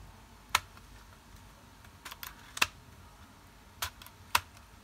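Sharp, crisp clicks come from the sliding mechanism of a mutantC v3 modular handheld device, with four or five distinct snaps spaced irregularly over a quiet background hiss, close to the microphone.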